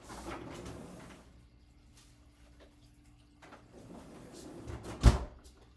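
A kitchen freezer door opens with soft rustling and shuts with a single solid thump near the end.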